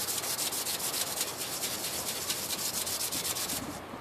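Scrubbing rust off a scratched chrome car bumper with Coke, a quick, rhythmic rubbing scrape repeating steadily and close, stopping just before the end.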